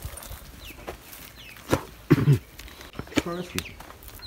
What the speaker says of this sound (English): Baby chick.